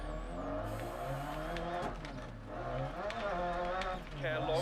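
Rally car in DiRT Rally from a first-person cockpit view, engine droning and shifting pitch with rattles and knocks from the car body, a voice talking over it throughout.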